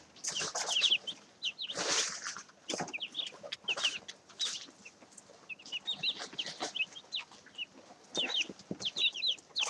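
Chickens in a coop cluck and squawk in irregular overlapping bursts, with some wing flapping and scuffling, fairly close and busy throughout, and no one speaking.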